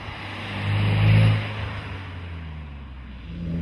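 A Renault Mégane R26 engine accelerates in a smooth, low, rising drone that swells for about a second and then settles into a steady hum, with no voices present.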